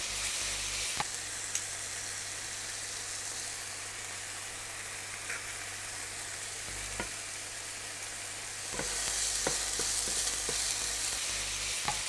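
Onions sizzle steadily in a hot pan for a Kenyan meat sauce, a constant close crackle that grows louder near the end with a few sharp clicks of utensils.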